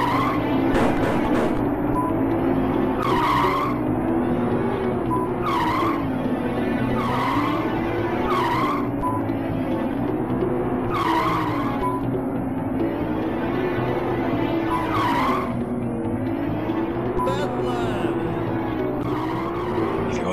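Race cars in the Amiga racing game Wheels on Fire, an engine drone with a wavering pitch and repeated tire squeals as they skid through corners, steady and continuous throughout.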